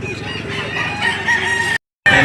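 Black Butcher chickens cluck and a rooster crows loudly up close at a poultry market in Lipa City, Batangas, a busy mix of poultry calls cut by a brief silence near the end.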